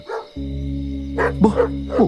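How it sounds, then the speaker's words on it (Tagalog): Several dogs bark angrily in short, overlapping bursts over a steady low hum, the yelps loud and fairly close, with no talk. "rinig na rinig pa rin ang galit na tahol ng mga aso"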